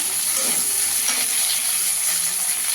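Flat beans fry in hot oil in a pan for a fish curry, giving a steady, bright sizzle with faint stirring clinks underneath.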